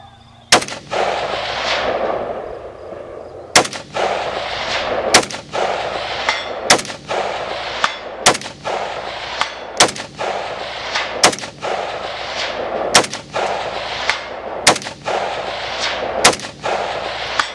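Long range rifle shots are fired on a Ruger Precision, about a dozen sharp loud reports spaced a second or two apart, each followed by a ringing decay from steel targets downrange.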